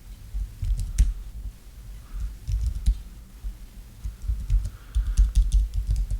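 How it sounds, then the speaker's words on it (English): Typing on a computer keyboard while coding in Python, with scattered clusters of close, quick key clicks and short pauses between bursts, no talking. "Pardon my typing."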